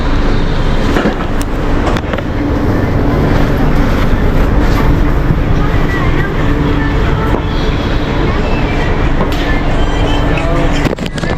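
Inside a moving local train in Chennai, with a loud, constant rumble and rattle of the carriage and faint rhythmic clacking of the wheels, steady and unbroken throughout.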